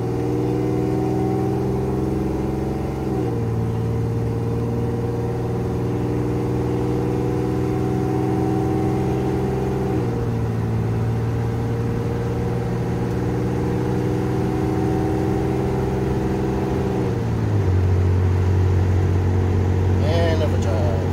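A 1987 Chevrolet Celebrity Eurosport with a 2.8 V6 and a slipping transmission, heard from inside while driving: steady mid-pitched engine drone with a few abrupt pitch drops as the gears shift, loud and continuous.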